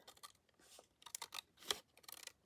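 Scissors trimming journal pages, a quick run of close, quiet snips and crisp paper crunches in short bursts, no talk.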